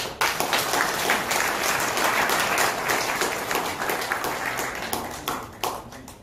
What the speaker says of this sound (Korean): 자, 마지막 박수 한번 쳐보세요.